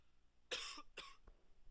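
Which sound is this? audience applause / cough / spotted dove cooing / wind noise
cough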